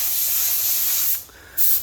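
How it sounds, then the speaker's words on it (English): A paint spray gun being cleaned out after priming a turbo G11R Charade gives a loud, steady hiss, cuts off briefly, then bursts back on. "Cleaning out the gun."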